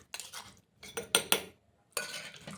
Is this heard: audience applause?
no